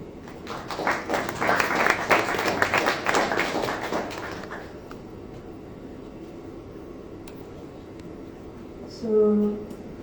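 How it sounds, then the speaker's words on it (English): An audience at a Japanese knotweed symposium claps to welcome speakers onto the stage, a dense burst of applause lasting about four seconds before fading into a quiet room hum. "I would love to invite them to the stage, give them a warm applause."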